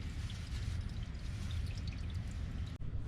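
CVT transmission oil draining from a 2014-2020 Nissan Rogue with the drain plug out, a steady, continuous pouring stream that runs throughout, close and fairly loud, with no talk.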